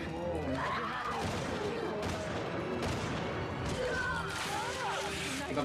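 Gunfire in the video game Resident Evil 6 cracks out in several sharp bursts amid game noise, with players talking over the shots throughout.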